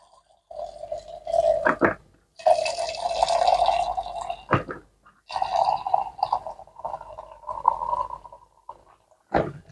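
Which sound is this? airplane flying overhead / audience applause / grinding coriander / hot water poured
hot water poured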